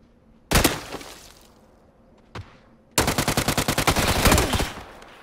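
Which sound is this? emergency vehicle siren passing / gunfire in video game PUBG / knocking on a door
gunfire in video game PUBG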